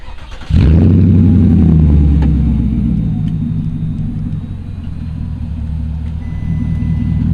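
A lifted 2004 Porsche Cayenne S with 150k miles cranks and catches, its engine bursting to life with a loud, deep rumble, then settling into a steady, throaty idle close by.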